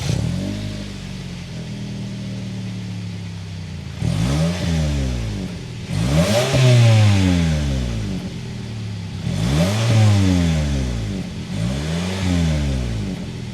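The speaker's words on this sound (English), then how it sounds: "let's just hear that exhaust note to see how much performance we got underneath it" The 4-cylinder engine of a 2022 Toyota Camry XSE revs repeatedly, each rise and fall of the exhaust note sweeping up and back down in several loud bursts close by, with no talk.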